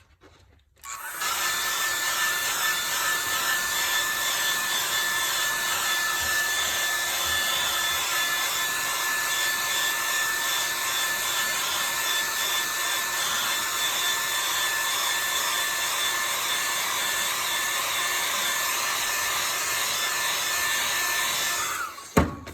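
A hair dryer runs steadily for about twenty seconds, drying a landscape painting in progress, with a constant loud whooshing hum and a faint whine that starts and stops abruptly.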